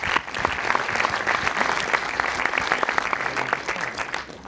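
An audience in a festival screening hall applauds a filmmaker, dense steady clapping from many hands filling the room, loud and sustained throughout before tapering slightly at the end.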